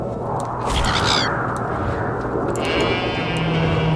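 Sheep bleat in the Morroblivion game, a pair of short wavering calls over a steady ambient game soundscape and a low hum, followed by a sustained higher tone near the end.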